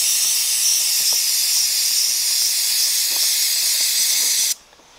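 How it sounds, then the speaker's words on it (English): Chain cleaner sprays in a loud continuous hiss onto a dirt bike chain as the tire is rotated, the spray cutting off abruptly near the end. "then you just rotate the tire as you spray"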